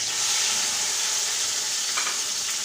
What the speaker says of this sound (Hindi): देखिए जी, तेल हमारा गर्म हो चुका है। इसमें हम सबसे पहले लहसुन अदरक का पेस्ट डालेंगे।